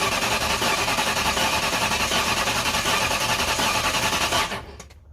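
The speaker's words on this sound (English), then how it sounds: "give it its first cranks without ignition" A 1999 Ford Mustang GT 5.0L stroker engine cranks without ignition, a loud, steady, rapid mechanical churning that continues without interruption for about four seconds, then abruptly stops and leaves a brief faint tail.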